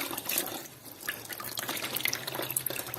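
Water draining out of a household panel radiator being flushed during a heating system cleaning, a steady splashing and trickling flow with drips, fairly close and continuous, no talk.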